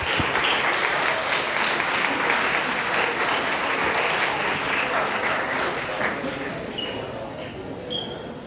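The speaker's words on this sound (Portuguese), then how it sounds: "Uma salva de palmas, por favor." A lecture audience claps steadily to welcome the speaker, a full, dense burst of applause that slowly tapers toward the end.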